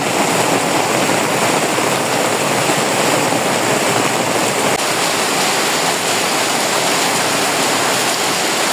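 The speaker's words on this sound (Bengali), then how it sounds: "আর এত বৃষ্টি আসছে" Heavy rain pours down in a steady, loud, unbroken rush of dense noise close by, with no voice heard.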